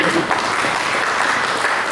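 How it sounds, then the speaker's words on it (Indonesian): A church congregation claps during a sermon, a continuous dense roar of applause sustained from start to finish with no break. "Berikan tepuk tangan."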